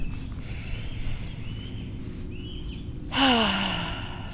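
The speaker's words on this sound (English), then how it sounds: "And I can just take a deep breath." A single slow, deep breath drawn and released during a calm guided tapping meditation, rising out of near silence toward the end as a soft, close, breathy sigh.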